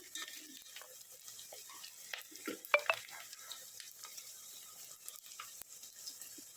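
Softened onion frying in a pan for vegetable biryani makes a faint, low sizzle, broken by scattered scraping and clinking stirs, with a brief louder clatter partway through.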